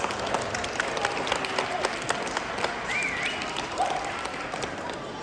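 Audience applause for craft vendors at GeekCraft Expo 2026 in the Minneapolis Convention Center; a broad wash of clapping from a crowd in a large hall, steady and moderately loud, with faint voices and a few whistles mixed in.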